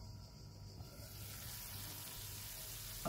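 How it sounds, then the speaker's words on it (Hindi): Vegetable keema for kababs frying in a pan over a medium flame, giving a quiet, steady sizzle that hisses evenly throughout with no pauses. "अब हम चूल्हे को मीडियम कर देते हैं और इसको ऑयल अलग होने तक भून लेंगे"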